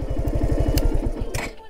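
A Luna moped approaches on a rural road in Assam, its small engine putting out a rapid, steady chugging pulse that sounds close and loud before cutting off abruptly.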